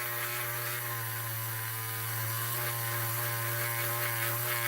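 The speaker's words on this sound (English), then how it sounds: "Now let's give ourselves a little drill." Power drill boring a hole, a steady loud motor whine with strong harmonics that holds continuously without pause, close by and alone.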